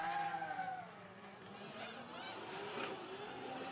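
Nissan S15 drift cars at a D1 Grand Prix tandem event in Malaysia pull away from the start line, with steady engine drone and a rising tonal whine that carries on unbroken, fairly loud, with no talk over it.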